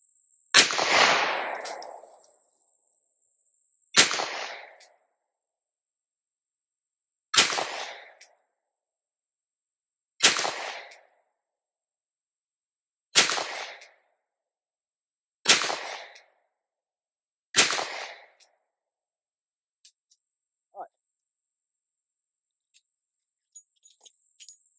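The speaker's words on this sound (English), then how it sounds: "we're going to shoot that same paper target in the center mass, see what kind of accuracy we get at 25 yards" Taurus Raging Hunter revolver firing .38 Special +P rounds at paper targets from 25 yards outdoors: seven loud, sharp shots spaced about three seconds apart, each ringing out with a short decay, followed by faint handling clicks.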